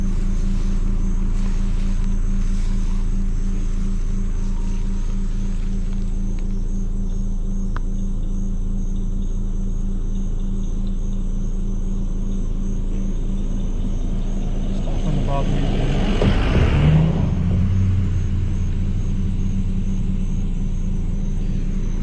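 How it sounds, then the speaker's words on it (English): Cars passing in heavy nighttime traffic on a road, a steady low engine rumble throughout with one vehicle swelling louder as it goes by near the end; a voice speaks over it. "Traffic all over the place. Cars."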